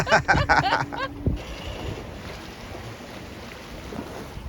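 Sailboat under way near the southern end of the Kornati Islands, Croatia, in strong Bora wind: steady broadband wind and water rush, with a brief burst of talk and clatter at the start.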